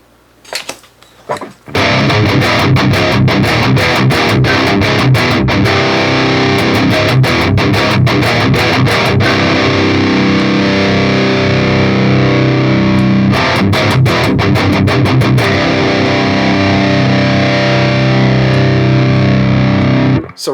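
Electric guitar played through a Line 6 POD Express pedal with mids and treble raised and reverb on, loud and heavily distorted, strummed chords ringing continuously with rhythmic bursts of choppy picking, no talking.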